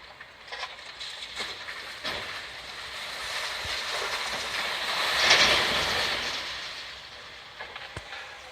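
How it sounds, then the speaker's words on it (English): Scrap metal tumbles out of a skip near an incinerator with a long clattering, grinding rush that swells and fades, heard from a distance over outdoor rumble. "they dump a skip full of metal"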